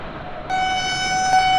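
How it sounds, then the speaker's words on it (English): A DB BR 612 tilting diesel train in Train Sim World 2 sounds a loud, steady chord horn that starts abruptly and holds for over a second. "I love the horn!"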